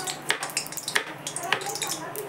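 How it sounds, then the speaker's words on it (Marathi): A knife slices raw banana into thin wafers, giving a string of light, crisp cuts spaced apart against a faint kitchen background. "याने पण सुरीने पण असे छान पातळ पातळ कापता येतात"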